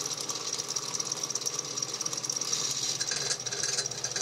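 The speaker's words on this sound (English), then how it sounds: "Got the spiral flute tap. We're gonna tap under power." A Benchmaster horizontal milling machine power-taps a hole with a spiral flute tap, producing a steady mechanical rattle and hum with a gritty, pulsing texture throughout, fairly close and without talk.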